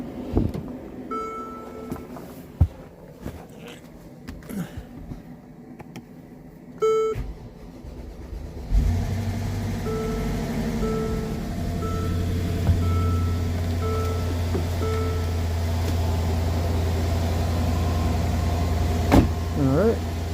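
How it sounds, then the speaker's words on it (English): A Mercedes-Benz GL450 under rebuild after a front-end collision starts after repair; early clicks and warning beeps give way to a steady low engine idle that runs on, with a person talking at times. "So let's start the car and let it run for a little bit."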